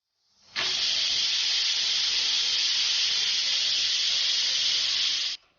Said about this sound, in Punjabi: ਪ੍ਰੈਸ਼ਰ ਕੁੱਕਰ ਦਾ ਢੱਕਣ ਬੰਦ ਕਰ ਦਿਓ ਅਤੇ ਤਕਰੀਬਨ 15-18 ਮਿੰਟ ਤੁਸੀਂ ਇਹਨੂੰ ਪ੍ਰੈਸ਼ਰ ਦਿਓ।